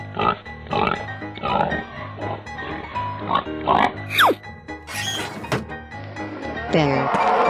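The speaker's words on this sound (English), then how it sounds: "Pig." A pig oinks and grunts several times amid busy cartoon music and sound effects, with voices heard in the mix.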